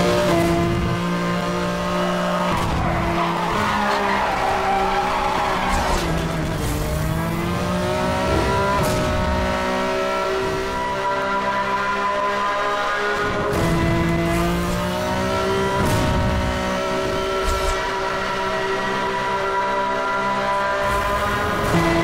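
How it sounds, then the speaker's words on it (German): A race car in Need for Speed Hot Pursuit Remastered roars continuously at high revs, the engine pitch rising and falling through shifts while tires squeal and skid in places, with no talk over it. "weil mir jedes Mal die Karre im wichtigen Moment ausbricht."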